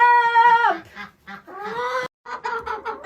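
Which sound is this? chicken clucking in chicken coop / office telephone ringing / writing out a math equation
chicken clucking in chicken coop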